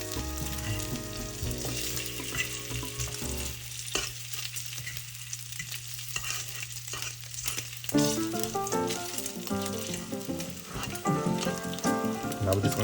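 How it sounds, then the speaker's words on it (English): Bacon frying and sizzling in a pan while being flipped, a steady crackling hiss close up and fairly loud, with clattering stirring sounds and some music playing underneath throughout. "we're gonna go ahead and kind of flip this bacon"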